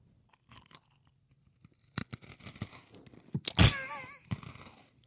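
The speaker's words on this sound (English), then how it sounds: "I have here a very mini, very tiny Oreo cookie that I'm going to crunch for all of you ASMR fans out there" A mini Oreo cookie is bitten and crunched right at the mic, with a few small crackles before a loud, deep crunch burst and slow chewing afterward.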